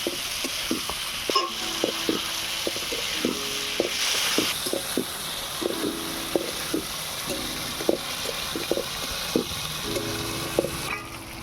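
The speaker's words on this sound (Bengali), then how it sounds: "চিংড়ি মাছটা এই আলুর সঙ্গে আবার একটু কষিয়ে নেব।" Prawns and potatoes fry together in a pan with a steady sizzle, while a utensil scrapes and taps against the pan in repeated strokes during stirring. No one speaks.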